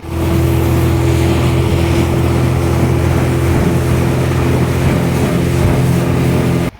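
A speedboat crossing from Teknaf to Saint Martin's Island, its loud outboard engine droning in a steady close roar with rushing water and wind, no talking.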